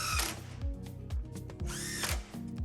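A power driver runs in bolts holding the headlight of a 2009-2014 Ford F150, with a close, loud whirring in several short rising bursts, each spinning up then cutting off.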